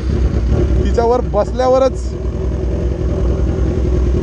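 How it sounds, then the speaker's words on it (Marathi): A Kawasaki Z1000 superbike with an Akrapovic megaphone full exhaust system, on the MIDC road at Badlapur–Ambernath, roars with a loud, steady engine rumble through the whole stretch while someone talks over it. "बाईक खूप लाऊड आहे"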